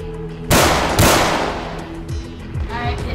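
A rocket-propelled grenade fires in a Roblox game with a sudden loud whoosh and blast, then a second boom, each trailing off into rumbling game noise.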